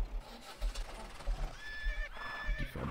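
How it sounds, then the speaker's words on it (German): Horses in the farming game Landwirtschafts-Simulator 17 whinny loudly twice in long wavering calls, with soft hoof clops and other game sounds around them, a voice briefly present. "Die Pferde von meiner Tochter."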